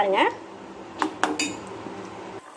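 A spoon clinks and scrapes against a pan while frothing ghee, melted down from milk cream, is stirred over the flame, with a few sharp metallic knocks and a low bubbling hiss between them.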